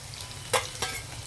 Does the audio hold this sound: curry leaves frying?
yes